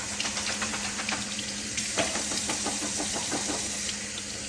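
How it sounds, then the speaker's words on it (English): Tap water running over garbanzo beans in a strainer, a steady splashing rush with light clattering as the strainer is moved, under a constant background hum. "Now, turn on the water. And, just move around with your strainer,"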